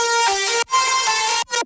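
Distorted sawtooth synth lead in a future bass mix, buzzy and bright, sounding two sustained gliding notes with a brief break between them and a short third stab, no voices.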